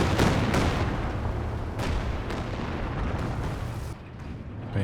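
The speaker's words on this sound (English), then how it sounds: "Katyusha again out the back. This time just a regular barrage," Katyusha rocket artillery barrage in Company of Heroes 2, a dense, continuous roar of overlapping explosions and rumbling impacts, loud and sustained throughout with a few sharper blasts standing out.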